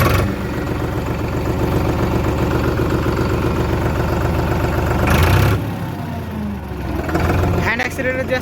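A Powertrac Digitrac PP 43i 50 HP tractor engine idles with a continuous low, throbbing rumble close by, a brief louder surge midway, while someone talks over it.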